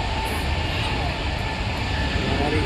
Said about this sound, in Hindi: विमान बघा, विमान मागे किती जवळ आहे.